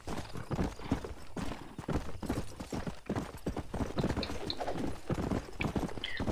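A horse's hooves clip-clop in the PC game Red Dead Redemption, a quick, steady, close hoofbeat rhythm running the whole time.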